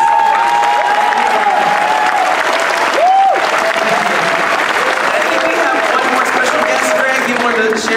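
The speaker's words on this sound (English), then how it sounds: "I want to give a big round of applause to our fabulous panel here." Loud, steady applause from a large audience at a Comic-Con panel for Teenage Mutant Ninja Turtles, a continuous crowd roar of clapping with a voice briefly heard over it.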